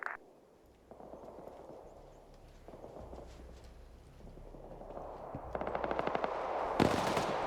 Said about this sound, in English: That's a lot of small arms.